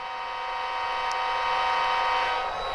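Horn of a model locomotive from a Tsunami2 sound decoder, one long steady multi-tone blast that sounds loud and close, holding for nearly three seconds with no speech.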